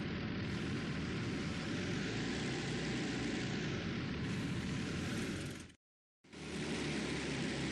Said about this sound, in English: Let's get your plane back on the carrier.